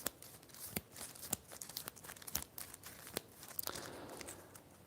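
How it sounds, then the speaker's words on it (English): Board game cards from an Allied action deck being shuffled, a run of quick crisp riffles and papery snaps, close and quiet, with no talk. "So I'll shuffle this Allied action deck first."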